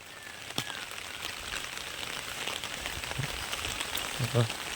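Rain of the season's first monsoon shower falls steadily around someone under an umbrella outdoors, a soft continuous patter with occasional nearer drips and a brief voice toward the end.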